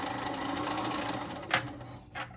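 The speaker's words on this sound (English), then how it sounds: "So I'm gonna sew my 1/4 inch seam," Sewing machine stitching a quarter-inch seam on scrappy quilt pieces, a steady close whirring run of rapid needle strokes that slows with two brief bumps near the end; no talking.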